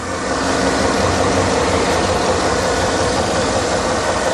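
A Cadillac's engine runs steadily and close, a continuous broadband rumble with no talk over it.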